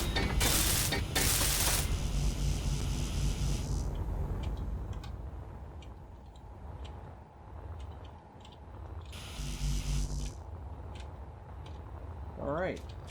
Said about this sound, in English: Just trying to weld you dumbo. You know, the steel plates can't hear